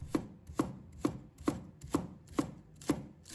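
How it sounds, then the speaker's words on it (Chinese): A knife chops scallion whites into small pieces on a cutting board, eight even, crisp thuds at a steady rhythm, close and clear with no voices. "把葱白切成小粒。"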